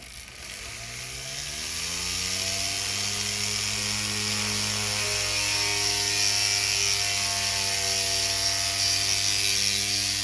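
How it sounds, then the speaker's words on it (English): A Foredom flex shaft rotary tool with a 3/32 drill bit whines steadily as it spins up and bores, its pitch rising then holding for several seconds with no talking. "I'm going to drill using my Fordham and a 3/32 drill bit."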